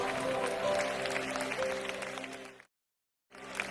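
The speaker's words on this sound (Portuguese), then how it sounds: "Batam palmas e glorifiquem aquele que vive e reina por toda a eternidade." A church congregation claps along during worship, steady clapping mixed with music tones that cuts to silence partway through before resuming briefly.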